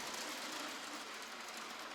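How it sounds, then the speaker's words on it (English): A train passes in Normandy, France, a steady broad rumble and rushing hiss held at even loudness throughout, fairly faint overall with no talking. "Train coming."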